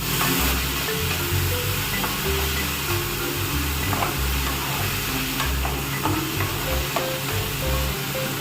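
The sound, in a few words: onions frying in a pan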